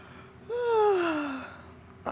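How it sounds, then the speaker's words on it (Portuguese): A single sonorous yawn done as a voice relaxation exercise, a voiced descending sound sliding down in pitch over about a second, close and alone in a quiet room. "Então, aquele bocejo bem sonoro"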